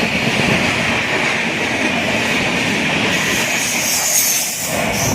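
The Trichy–Jodhpur Humsafar superfast express, hauled by a locomotive, runs at speed with a loud, continuous rumble and rattle of wheels on rails, heard close from aboard the train.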